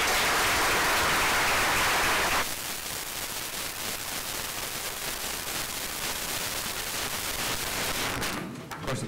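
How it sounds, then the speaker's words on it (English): Audience applause at a Lawton Public Schools board of education meeting, a dense, loud round of clapping that fills the room for a couple of seconds, then continues steadily at a slightly lower level and fades near the end. "We'll give you one last round of applause"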